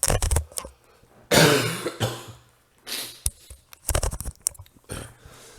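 A person coughs several times in harsh, uneven bursts, with short pauses and throat clearing between them, close and fairly loud.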